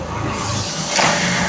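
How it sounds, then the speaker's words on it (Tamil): Car engine starting up after mechanical repair at a garage, a brief cranking burst that catches into a running idle, close and fairly loud. "இப்போ ஓரளவு வந்து வாகனத்தை ஸ்டார்ட் பண்ணியிருக்கிறார்"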